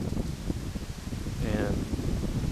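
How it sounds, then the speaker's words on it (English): Wind gusts around a house in Cypress, Texas, northwest of Houston, during Hurricane Ike: a continuous low, rumbling roar that buffets the microphone, with short surges in strength. "it's definitely lots of gusts"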